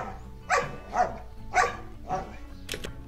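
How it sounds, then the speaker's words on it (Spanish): A dog gives four sharp, evenly spaced demand barks, moderately close, with a faint squeaky yip at the end and soft frustrated whines between. "son ladridos de petición."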